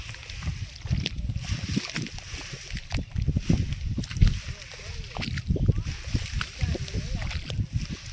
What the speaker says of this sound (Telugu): అయితే స్టార్ట్ చేసిన డ్రమ్ము గుంజుడు చూడండి ఫ్రెండ్స్